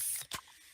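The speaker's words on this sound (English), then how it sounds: "Oh yeah, that's the sound of a freshly opened fizz-filled Pepsi." A freshly opened Pepsi fizzes in a brief, bright hiss. A sharp pop or crack follows, then a softer lingering fizz.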